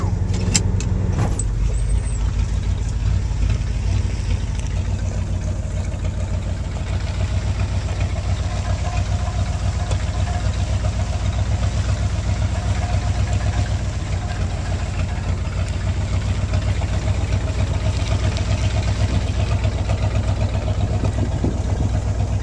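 A Ford truck engine strains at a steady, loud drone while pulling a tree toward a brush pile outdoors, a continuous low rumble that holds for the whole stretch with a few faint clinks near the start.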